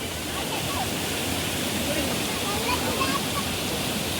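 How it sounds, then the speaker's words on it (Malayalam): A stream of water pours down over rocks, giving a steady, even rush of broadband noise close by with no breaks. "ഇവിടുന്ന് ഇങ്ങനെ ഇറങ്ങി വെള്ളം വരണേ"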